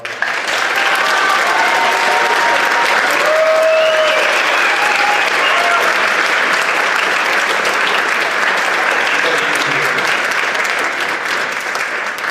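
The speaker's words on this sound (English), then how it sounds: "if we can give all these employees another round of applause" A roomful of people at a school district board meeting gives a long, loud burst of applause for employees, thick and continuous for twelve seconds with only a slight easing toward the end.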